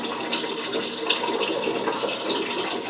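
Running water flows steadily as hair color is rinsed out of hair, a continuous close splashing wash.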